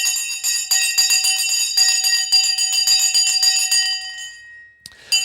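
A stock market closing bell rings loud and close in a rapid stream of metallic strikes for about four seconds, then stops abruptly and the tone fades.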